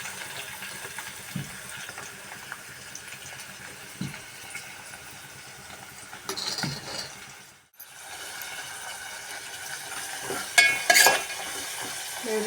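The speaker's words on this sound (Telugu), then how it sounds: "ఉల్లిపాయలు వేగిపోయినాయి" Onions frying in a pan with cinnamon and cloves for mutton curry, a steady sizzle with occasional stirring scrapes and clinks, one brief dropout midway, no talking.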